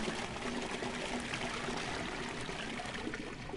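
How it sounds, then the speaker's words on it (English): Toilet flush in the video game Max Payne, a steady rushing and gurgling of water lasting several seconds at moderate level, with no talk over it. "Wait, let me flush this for you."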